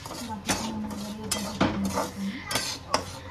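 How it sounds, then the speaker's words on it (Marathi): Semolina (rava) roasting in a pan in a home kitchen, with a utensil repeatedly clinking and scraping against the metal pan in sharp, irregular taps over a steady low kitchen background. "मी इकडे रवा भाजते."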